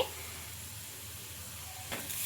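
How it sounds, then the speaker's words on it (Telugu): A quiet, steady hiss of a sizzling spice tempering in a pan, with a brief louder burst near the end as mashed boiled potato paste goes in; no voices. "ఈ పేస్ట్ని అయితే ఈ తాలింపులోకి అయితే వేసుకోవాలి"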